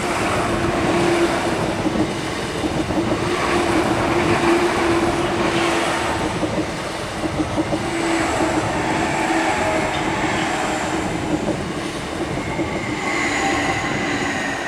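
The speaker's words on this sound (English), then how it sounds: "here comes the train" A train rumbles steadily past close by at a UK level crossing, with continuous rolling wheel noise and faint rhythmic clatter, loud and unbroken throughout.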